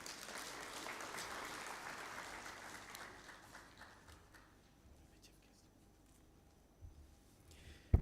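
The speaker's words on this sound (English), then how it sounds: "A round of applause once again, ladies and gentlemen." An audience at a general assembly conference breaks into applause after a speech, a broad round of clapping that fades out gradually over several seconds into a quiet room.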